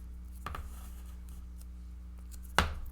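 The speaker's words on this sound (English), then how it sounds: "I'm going to put a little bit of tape on here." Tape being pulled and pressed onto a paper craft from a paper pumpkin kit, with two short sharp crackles, one near the start and a louder one near the end, over a quiet low hum.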